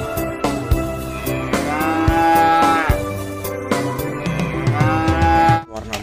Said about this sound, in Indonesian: Wow, ada sapi teman-teman.